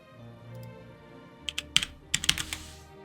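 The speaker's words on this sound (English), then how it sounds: "Why is my keyboard breaking?" Typing on a computer keyboard comes through as a quick cluster of sharp key clicks over a steady low hum, growing busier toward the end.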